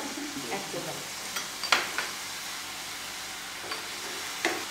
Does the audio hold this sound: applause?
no